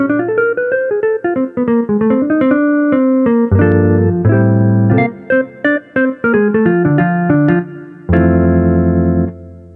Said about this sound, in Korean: 이번에는 재즈 기타 연주를 들려드리겠습니다.